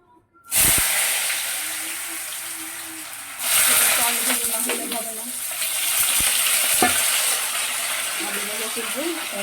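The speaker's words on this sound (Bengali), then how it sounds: "এখন ছেলের আলু ভাজবো বসাচ্ছি" Potatoes frying in a pan, a sudden loud hiss as they go into the oil, then a continuous close sizzle with a second surge partway through and scattered clinks of stirring.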